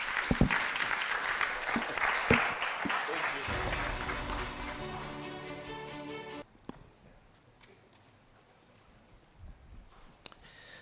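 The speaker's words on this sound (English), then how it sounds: "Another round of applause, please," An audience applauds a professor after his talk at an ICT innovation week session: steady crowd clapping for about three seconds, then a sustained musical tone, and finally a near-quiet room with scattered faint clicks.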